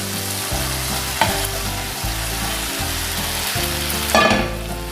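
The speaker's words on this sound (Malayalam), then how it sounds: "ഈ സമയം നമ്മൾ ഫ്രൈ ചെയ്ത് വെച്ച ടോഫു ചേർക്കുന്നു." Fried tofu added to capsicum and onion in a hot pan, a steady close sizzle with intermittent stirring clatter and a brighter crackle near the end.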